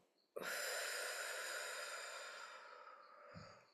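A long, forceful exhale through the mouth during a relaxation breathing exercise, one sustained breathy rush that starts abruptly and fades slowly over about three seconds, close and fairly loud, with a faint intake of breath at the end.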